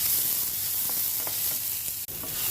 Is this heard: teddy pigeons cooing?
no